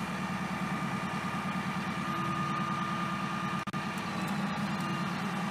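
CLEMENS trimmer hydraulic system running steadily once the oil flow is on, a constant low mechanical hum with a faint pulsing rhythm, close and unbroken apart from a brief click; no talking.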